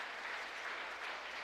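Congregation clapping warmly during a Sunday church worship service, a steady, dense wash of applause filling the room at moderate level with no break, fairly distant and even throughout.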